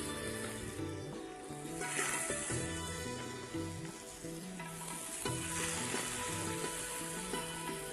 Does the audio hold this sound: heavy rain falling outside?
no